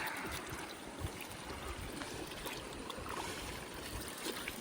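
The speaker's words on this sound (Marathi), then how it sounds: "आता पाणी ओतून मासे ओतले जातात" Water poured over freshly caught fish to wash off the mud, a steady soft rushing splash that carries on evenly throughout, quiet and close with no voices.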